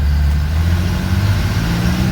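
A prewar Silversides bus engine pulls under throttle, a loud, close, low-pitched drone with a steady rumbling hum and no talk over it.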